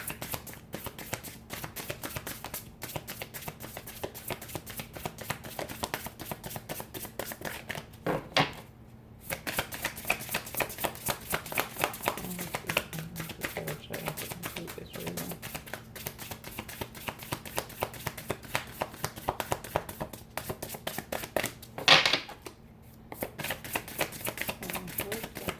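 Tarot cards are shuffled and pulled by hand, a long run of rapid, close crisp flicks and taps with a few brief pauses and a louder riffle toward the end.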